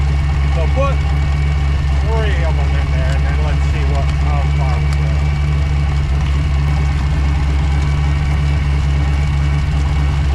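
The engine of a 1986 Bayliner Capri boat runs at a steady, loud, low idle throughout while being winterized, with faint squeaks and rattles over the constant drone.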